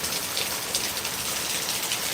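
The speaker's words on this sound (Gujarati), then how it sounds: "પાંથાવાડાની અંદર વરસાદ હાલ વરસી રહ્યો છે" Rain falls steadily in Panthawada under dark clouds, a constant, even patter and hiss on surfaces with no one speaking.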